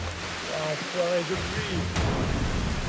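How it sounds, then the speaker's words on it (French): Heavy tropical storm rain pours steadily over an outdoor survival camp, a dense continuous hiss, with a voice briefly audible over it. "Depuis le début de l'aventure, on a eu de la pluie, mais pas à ce point. Là, c'est vraiment limite tempête."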